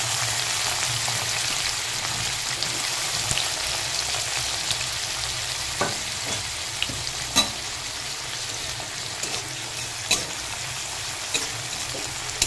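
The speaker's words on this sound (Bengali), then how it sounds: "পেঁয়াজটা ভালো করে ভেজে নেব।" Chopped onions sizzle steadily in hot mustard oil with five-spice tempering, a constant crackling hiss broken by occasional sharper pops and stirring clicks, close and without talk.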